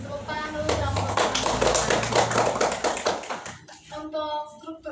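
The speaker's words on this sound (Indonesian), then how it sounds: "beri tepuk tangan dulu" Classroom applause: a burst of close hand clapping from a group, with children's voices mixed in, fading out into scattered talk after a few seconds.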